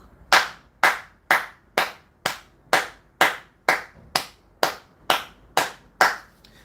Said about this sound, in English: I just want to clap for Facebook.